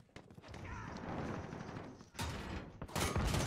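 Gunfire in the Call of Duty video game, a few sharp broadband bursts cutting through a busy, rumbling game soundscape, the loudest cluster near the end.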